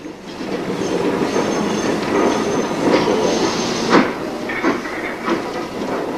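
An LNER-built mixed traffic steam locomotive reverses slowly with its train past a North Eastern Railway shunt signal, rumbling along the rails with clanking and faint wheel squeal, a steady mechanical roar close by.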